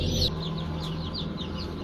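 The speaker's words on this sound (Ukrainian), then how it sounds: "Ви в одному курчатка вже лупляться, бачите?" Many young chicks cheep in short, repeated high peeps, some hatching in an incubator. The cheeping is close and fairly loud over a low steady hum, with no speech.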